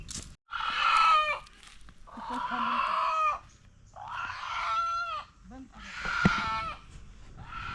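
A village rooster clucks and crows close by in four distinct, loud, strained calls separated by short pauses.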